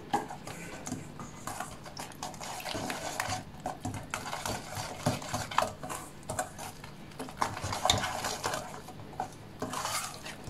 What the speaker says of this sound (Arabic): على هذا الشكل غادي نضربوا هذا الخليط هذا غير بالفوي مانيال